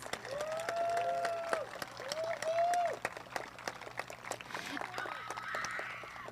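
An audience in a school graduation ceremony applauds the graduating students, a soft, distant, continuous patter of clapping under a few overlapping voices and some cheering.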